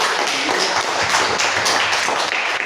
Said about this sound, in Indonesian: Iya, tepuk tangan, betul.